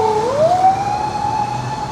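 An ambulance siren on a busy Kampala city street rises and then holds a loud, steady wail, heard close against the hum of traffic.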